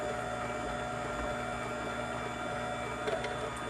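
An Aeitto slow juicer on its hard setting hums and whirs steadily with a dense, grinding drone, a few small clicks near the end, no voices.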